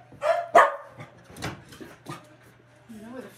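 Puppy during a trick-training session giving a couple of sharp, close barks, then softer yips and whimpers, with a person speaking nearby.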